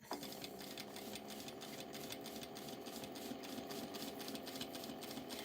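A sewing machine runs steadily, basting mesh onto a tote bag with a tiny stitch length, its motor a continuous mechanical whir with fine rapid stitching ticks, close and even throughout with no talking.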